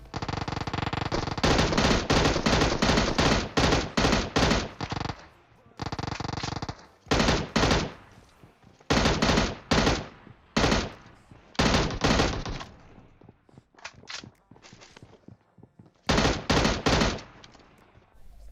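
Bursts of M16 rifle fire in PUBG Mobile, loud rapid automatic volleys in repeated bursts of a second or two, broken by short pauses, with no talk over them.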